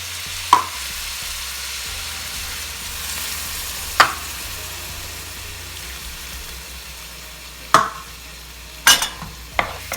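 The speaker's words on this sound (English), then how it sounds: "Listen to the sizzle." Seasoned ground taco meat sizzles steadily in a hot pan, with a few sharp scrapes and clatters of a utensil stirring at intervals.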